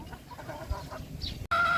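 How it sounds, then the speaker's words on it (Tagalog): Chickens, roosters and pullets cluck and call close by in a farm yard, a run of short fowl clucks followed by a brief sharp cry near the end. "puntahan naman natin yung mga anak nila, mga tandang at mga pulet"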